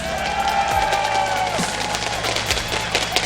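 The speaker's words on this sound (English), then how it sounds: "If you want to see SK Gaming coming into this one, picking up their first win of the group stage, give them a cheer" An esports crowd at a League of Legends playoff match cheers and claps for SK Gaming, a broad wash of noise under a humming tone, with occasional thumps and a moderately loud, steady level.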